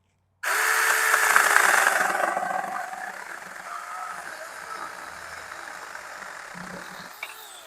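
Saker Mini electric chainsaw cutting through dead tree limbs and sticks, a loud whining bite at the start that eases into a steadier, quieter buzz as the blade runs on, with no talking.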